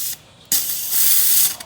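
A McCulloch 1385 steamer blasts an adjustable jet of steam as a broad, loud hiss, cutting out briefly before resuming stronger and steady for about a second, then tapering off.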